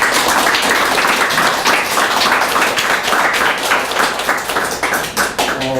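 An audience at an author talk with a Korean politician breaks into sustained applause, dense steady clapping from many hands that fills the room for the whole clip, with a brief voice near the end.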